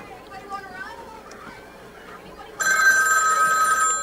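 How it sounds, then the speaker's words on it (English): A telephone rings in the announcer's booth at a 1988 sixth-grade track and field meet in Bloomington. It breaks in loud and close with a bright, sustained electric bell tone after a stretch of voices and background crowd chatter. "Oh, phone call up here in the booth."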